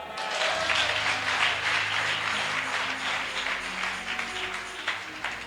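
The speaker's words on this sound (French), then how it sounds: "Je n'ai pas entendu l'acclamation." Congregation applauding and acclaiming at a gospel festival service, a dense continuous clapping wash with voices mixed in and a low musical drone underneath.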